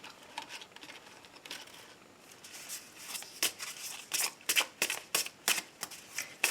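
Tarot cards being shuffled by hand for a general reading, soft rustling giving way to a quickening series of crisp riffling slaps, close and fairly quiet with no talking.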